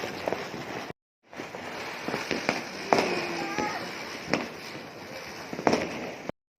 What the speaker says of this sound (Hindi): तो अब नीचे आ गए थे, मतलब बड़े पटाखे बम वगैरह फोड़ने के लिए हम लोग